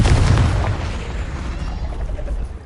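The Confringo fire spell in the game Hogwarts Legacy lands as a loud, booming explosion with a deep low thump. A rumbling tail fades out over a couple of seconds.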